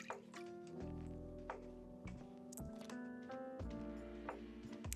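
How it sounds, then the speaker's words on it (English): Water drips and trickles from freshly blended paper pulp as a papermaking mold is lifted, with a steady run of close, wet splashes and small taps. "Make sure all the water just drips out."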